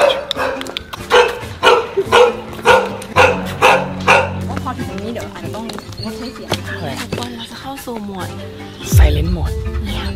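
A dog barks in a steady run of loud, evenly spaced barks, then gives a few scattered yips and whimpers while people talk nearby.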